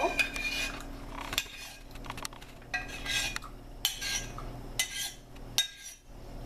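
A utensil scrapes hot sauce out of a pan into a bowl, with repeated close metallic scrapes and clinks against the cookware. The strokes come in uneven bursts with short pauses between them, and nobody speaks.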